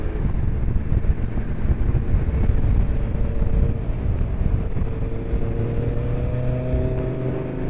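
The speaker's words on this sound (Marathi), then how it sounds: "समोर माझी फेवरेट बाईक चालली आहे," A Suzuki Hayabusa motorcycle riding ahead on the road gives a steady engine drone, heard from a following bike under heavy wind rush, with the pitch rising slightly toward the end.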